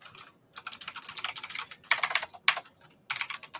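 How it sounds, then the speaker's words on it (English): Fingers typing on a computer keyboard, close and crisp bursts of rapid key clicks separated by short pauses, with no one speaking. "let me type it in so I can show you guys"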